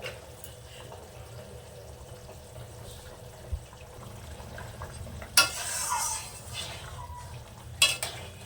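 Someone stirs a yam and fish curry in a pot, with soft scraping and the faint simmer of liquid, then a couple of sharper clattering bursts from the utensil against the pot.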